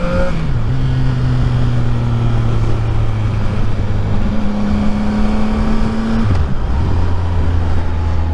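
A CF Moto 675 NK motorcycle engine drones steadily while riding, its pitch holding through the gears with a couple of shifts, loud and close, with no talk over it.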